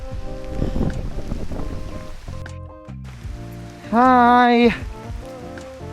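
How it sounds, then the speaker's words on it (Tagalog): Steady heavy rain patters and hisses throughout on a mountain hiking trail, with a brief spoken greeting and a sharp harmonic tone standing out near the end. "Lakas ang ulan."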